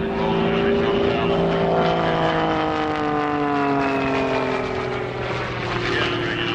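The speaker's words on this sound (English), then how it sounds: "A little forward stick pressure, rolls the airplane right side up." An aerobatic airplane performing low over an airshow field gives a loud, continuous propeller-engine drone whose pitch slowly rises and falls as it rolls and maneuvers.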